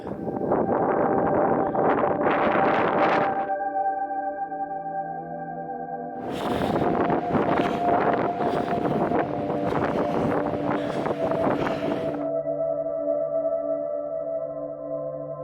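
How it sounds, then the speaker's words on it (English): Strong gusting wind buffets the microphone on a misty Welsh mountain ascent near Machynlleth, roaring in two loud bursts over a steady low drone. "the wind is still pretty strong"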